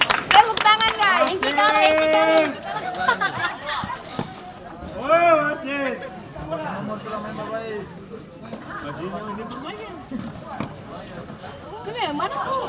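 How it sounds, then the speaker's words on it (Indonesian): An audience at a youth under-17 mini-goal futsal match indoors claps and cheers; loud, overlapping voices dominate, with scattered handclaps mixed underneath and rising near the end. "Tepuk tangan guys."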